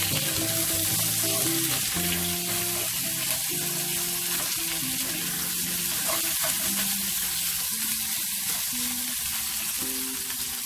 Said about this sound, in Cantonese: 煎到兩面都金黃咧